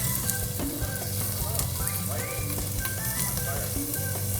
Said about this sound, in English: It's a very loud steak.